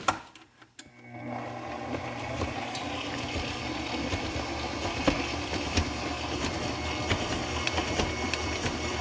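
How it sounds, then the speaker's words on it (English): A stand mixer fitted with a dough hook kneads flour tortilla dough, running as a steady mechanical whir and rumble after a few knocks at the start, with irregular thumps and rattles throughout. "I'm going to put my timer on for 10 minutes while it mixes the dough and kneads the dough"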